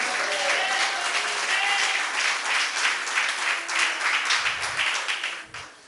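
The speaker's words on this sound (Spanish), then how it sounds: "Aplauda a Dios en este día" Congregation applauding inside a church, a dense steady wash of clapping that fades near the end, with a couple of brief low thumps.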